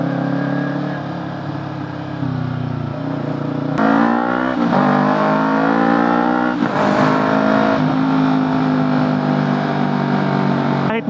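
A Yamaha YZF-R3 motorcycle engine drones steadily while riding, with gear changes and rising revs, loud and close throughout.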